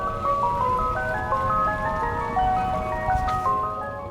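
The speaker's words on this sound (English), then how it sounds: "You can even pretend to be an ice cream truck." An ice cream truck jingle plays from the external speaker of a 2022 Tesla Model Y Performance, a steady, tinkling melody that runs loud and continuous with a low rumbling background beneath it.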